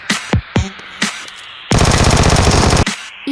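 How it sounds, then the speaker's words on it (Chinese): Machine-gun gunfire in the mobile shooter game Metro Royale: a few sharp single shots, then a loud sustained rapid-fire burst of about a second, followed by one more shot, close and with no talking. "进来听见有枪声去看看"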